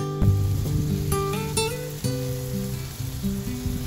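Beaver meat sizzling and browning in a hot pan, a steady loud frying hiss with occasional clinks and stirring, close up.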